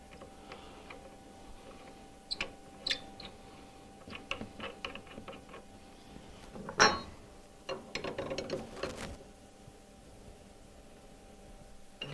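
A 1/4 inch router bit is being tightened firmly into the collet of a CNC machine, heard as quiet, scattered mechanical clicks and ratchet-like ticks with brief pauses. No one speaks.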